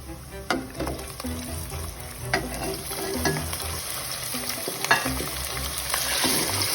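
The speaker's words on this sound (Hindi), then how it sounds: "तो अब हम यहाँ पे जो चिकन लिया था हमने वो ऐड कर देंगे" Chicken frying in a pan, a steady sizzle with occasional scraping stirs and clinks, close and moderately loud, no voices.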